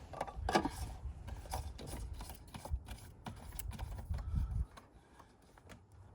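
An oil filter housing is fitted back into a 2023 Dodge Charger during an oil change, giving a close series of quiet plastic clicks, ratcheting and handling noises in an uneven rhythm.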